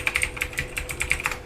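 Rapid typing on a computer keyboard: a quick, uneven run of crisp key clicks, close and fairly loud, with no voices.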